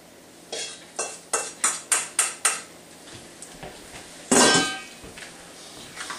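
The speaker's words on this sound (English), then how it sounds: "You saute that a little bit till you get that" Lobster in melted butter in a pan, a quick run of seven bright metallic clinks like a utensil striking the pan, then a louder scraping burst, close up over a faint background hiss, no voices.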